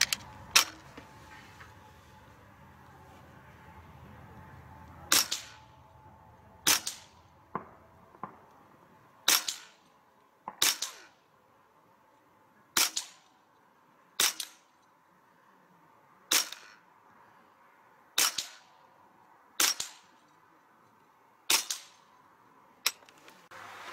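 A Hatsan Turkbull (Bullmaster) .25 caliber (6.35 mm) PCP air rifle fires about a dozen sharp, loud cracks in a fast series, spaced roughly one to two seconds apart, with short quiet gaps and no talking.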